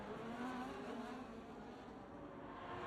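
F1 24 race cars on the Monza circuit roaring steadily through a chicane, a continuous engine drone with no talk over it.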